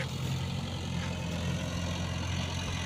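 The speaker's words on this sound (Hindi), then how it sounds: "वो वाला खेत में धान ह छितागे ओला ट्रैक्टर ह जोता थे" A tractor engine drones at a steady, low idle-like hum while ploughing a rice paddy field in Chhattisgarh, heard moderately far off and continuous without talk.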